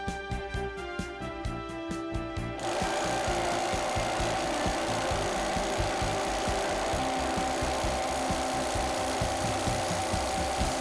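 A vibration test rig shaking a Hardlock nut and other nuts, first a fast regular rattling pulse, then a louder dense mechanical roar with steady grinding and knocking that continues throughout.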